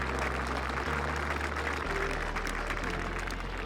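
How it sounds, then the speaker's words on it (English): Steady crowd applause at the 18th green of a women's professional golf tournament, the KPMG Women's Irish Open, greeting a closing birdie; continuous clapping at moderate distance throughout, with low broadcast hum beneath. "a well-deserved ovation from the crowd"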